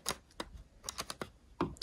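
Sharp scissors snip yarn loops on a knitted faux-cable hat, a series of short crisp clicks and snips at an uneven pace, close and quiet, with no talking.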